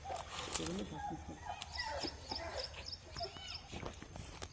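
A rescued puppy, just pulled up from a well, gives thin high whimpers and yelps in short bursts, close by, mixed with footsteps and people talking around it.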